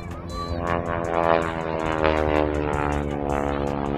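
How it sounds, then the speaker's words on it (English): Vintage 1940s-era propeller training aircraft at a Canadian airshow, its engine droning loudly and continuously with a strong harmonic hum and slight pitch changes as it flies an aerobatic hammerhead manoeuvre. "They bring the aircraft up, slam in full left rudder, brings that wing down like a hammerhead falling on down."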